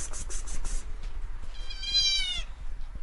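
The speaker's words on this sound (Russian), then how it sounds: "Котенок сзади там." A kitten gives a single rising, wavering meow partway through, over low background rumble and some clattering noise.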